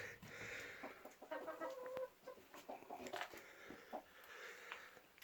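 Several chickens cluck and squawk close by in a busy, overlapping chatter outdoors while snow falls, with a rooster-like call rising at moments.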